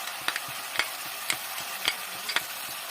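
A spoon stirs poppy seed paste in a pan over a faint sizzle, with about five light scraping strokes at an even pace, close and with no voices.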